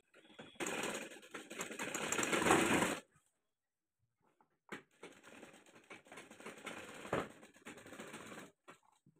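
Sewing machine stitching the neckline of a kurti, joining two fabric panels: a steady whirring run for about two seconds, a pause, then several shorter bursts of stitching, close and fairly loud.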